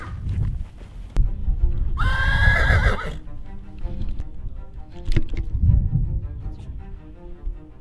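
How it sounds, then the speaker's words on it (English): Wild horses neigh at a beach on Assateague, Maryland, a loud whinny of about a second standing out over a steady wind-and-surf background, with softer thumps and movement before and after. "I hear your horse is going crazy, sounds like a camp's being attacked"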